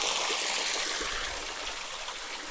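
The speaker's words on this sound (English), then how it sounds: "Ain't a whole lot of water in it right at the moment, but it's still a waterfall." Small waterfall on a low-flowing creek along a woodland trail in southern West Virginia, a steady close broadband rush and trickle of water running continuously with no talk.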